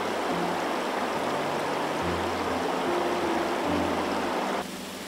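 Continuous broadband rushing of the Kumano River, a tributary of the Jinzu River, flowing through Toyama city, steady and loud throughout with no voices.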